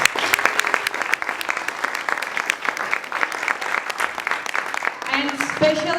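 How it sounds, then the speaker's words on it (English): Applause for the children at an annual day certificate ceremony rings out as a steady burst of clapping from a seated audience, easing slightly near the end as a voice begins. "And a big applause to all our Pragya kids."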